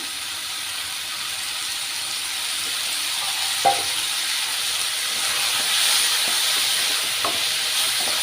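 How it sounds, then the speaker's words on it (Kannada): Chopped tomato frying in oil for a spinach chutney, a soft steady sizzle and hiss close by with a few faint clinks of stirring, no voices. "ಈ ಟೊಮೊಟ ಒಂದು ಮುಕ್ಕಾಲು ಪರ್ಸೆಂಟ್ ಮೆಲ್ಟ್ ಆಗೋವರೆಗೂ ನಾವು ಇದರಲ್ಲಿ ಫ್ರೈ ಮಾಡಬೇಕಾಗುತ್ತೆ"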